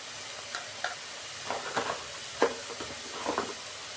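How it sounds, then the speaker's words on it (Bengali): Ginger-garlic paste and ground spices fry in oil in a pan while being stirred, a soft, steady sizzle broken by scraping strokes from the spoon at irregular intervals, close and fairly quiet, with no talk. "বন্ধুরা, আমি 2 মিনিট কষতে নিই"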